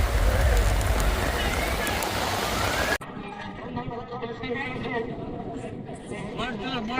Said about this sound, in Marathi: हेवी पावस पडला म्हापसा.